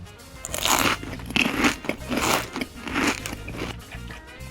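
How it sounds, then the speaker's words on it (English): Crunchy bites and chewing of a homemade vegan dinner, about five close, crisp bursts in quick succession, with no talking. "Now I'm gonna do a quick little taste test for you guys."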